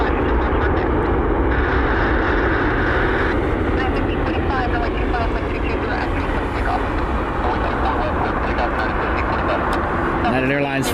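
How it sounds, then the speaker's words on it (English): A United Airlines airliner bound for Houston takes off, its engines a loud steady roar that holds throughout, with a voice talking over it. "They got their takeoff clearance on their way to Houston."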